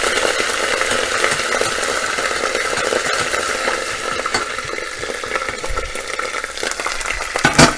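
Whole spices, cardamom among them, crackle and fry in hot oil in a pan. The loud, dense sizzle runs steadily throughout, with a few sharper pops and a stirring clatter near the end.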